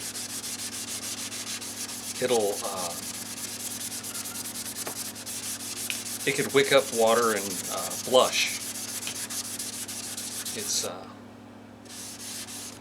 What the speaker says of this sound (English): So see how quickly that sanded?